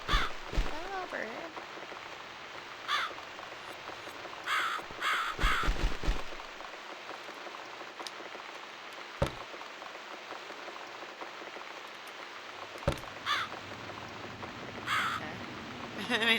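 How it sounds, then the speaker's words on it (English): A crow caws repeatedly in steady rain in the video game The Cat Lady, harsh calls recurring every few seconds over continuous pattering rain, with a voice talking at times. "It's this damn bird again."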